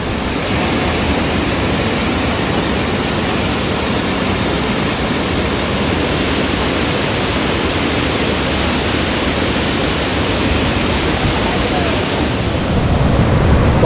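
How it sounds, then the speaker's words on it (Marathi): Rushing water at the springs of Dhootpapeshwar temple near Rajapur, a loud, steady, close roar of falling water and spray that fills the whole span without letup. "पाण्याचा आवाज खूप आहे"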